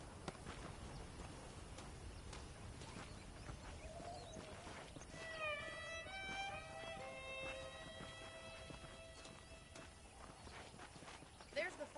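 Steady clip-clop of a horse's hooves walking in the western video game Red Dead Redemption, faint and rhythmic beneath a voice and soft background music.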